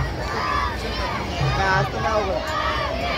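A large crowd of pilgrims on the Palkhi wari procession walks through the rain toward Alandi, a dense wash of footsteps, rain and crowd babble, with a voice talking close by over it.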